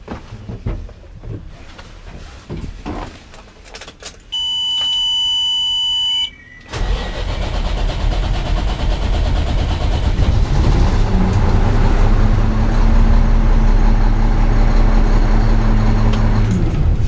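A Mack E-Tech truck engine with a hard-start problem cranks for several seconds, then catches and settles into a loud, steady diesel idle; a brief electronic beep sounds just before it fires.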